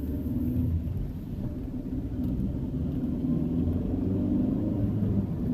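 Interior road noise from a Rover 45 Club saloon with a 1.6 16-valve engine: a steady, fairly loud low rumble of engine and tyres while driving, with no voices.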